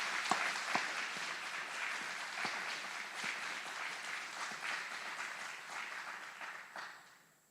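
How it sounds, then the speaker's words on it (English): An audience at an Army aviation brigade graduation at Fort Eustis applauds drill sergeants and instructors, a broad steady crowd clapping with a few sharper claps up front, fading out at the end. "Please join us in giving a round of applause to these outstanding drill sergeants and instructors."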